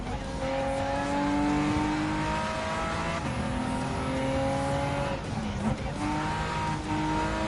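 A 1991 twin-turbo GTO sports car races along a highway in Gran Turismo 7, its engine droning loudly with shifting pitch as it accelerates and shifts, tires squealing briefly, under someone talking.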